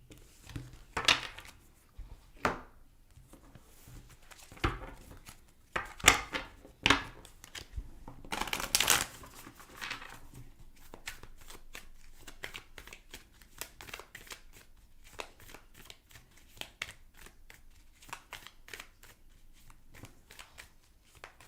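Tarot cards riffled and shuffled in bursts, louder near the start with a few sharp slaps, then a long stretch of soft, steady shuffling close by.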